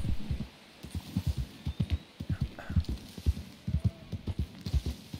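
A horse's hooves clopping in Red Dead Redemption II, an even, repeated beat of fairly soft, close steps over a quiet background.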